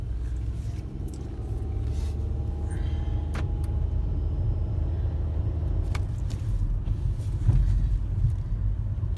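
A 2015 Nissan Altima on a test drive, its steady low engine and road rumble continuous and fairly even throughout, with a few faint clicks and rattles inside the cabin.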